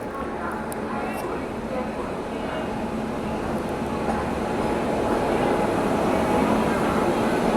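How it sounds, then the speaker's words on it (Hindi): The Rewa Anand Vihar Express, running about 4.5 hours late, rolls into a station with a broad, continuous rumble that grows slightly louder as it nears. "उधर से किसी ट्रेन का तो अराइवल हो रहा है"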